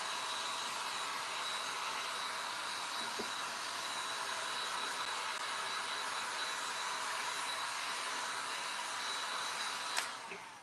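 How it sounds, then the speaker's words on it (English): A hair dryer blows steadily on a freshly applied milk paint finish, a constant airy whir held for the whole stretch with a small click near the end. "So we're going to hit this with the hairdryer."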